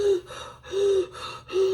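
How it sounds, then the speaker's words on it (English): A woman gasps for air in three sharp, strained breaths, each rough and voiced, spaced evenly and close to the listener with no talking. "we see her run outside gasping for air"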